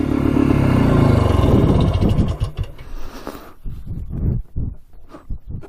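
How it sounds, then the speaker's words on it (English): A quad's engine runs loudly, then cuts off, leaving a series of irregular metallic clatters and rattles from the machine, close by and without talk. "I hear something rattling"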